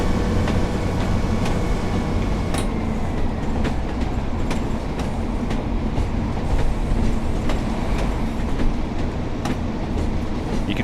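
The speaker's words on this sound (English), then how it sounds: "You can see why this is a very bouncy train." A bouncy, nodding train running along rails, with a steady loud rumble and repeated clickety-clack beats from the wheels passing rail joints, heard from inside the carriage with no talking.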